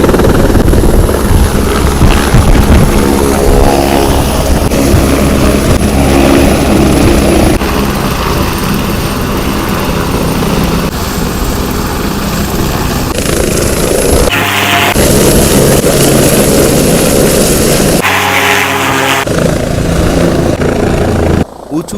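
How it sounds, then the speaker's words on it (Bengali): Helicopter landing at the Kedarnath helipad among mountains in dark, overcast weather: a loud, steady rotor and turbine roar throughout, with brief voices heard under it. "এই যে ল্যান্ড হচ্ছে হেলিকপ্টার।"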